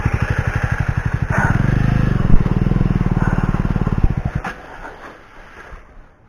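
A motorcycle engine thumps steadily up close on a mountain road, its pulsing idle rising briefly before the beat fades and the engine winds down to near silence.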